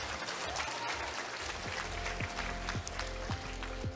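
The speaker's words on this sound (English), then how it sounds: "Let's give them a round of applause." An audience claps for the previous speakers at a motivational talk, a moderate wash of applause with a few sharper thumps and a faint tonal hum underneath.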